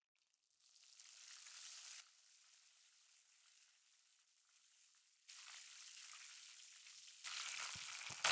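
Mustard and fenugreek seeds sizzle and crackle in hot oil while sardine fish curry is prepared, a steady hiss that swells louder in bursts, with no voices.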